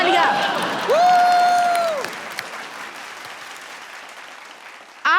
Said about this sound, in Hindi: एक बार हमारे झिंगुर दादा के लिए जोरदार तालियां।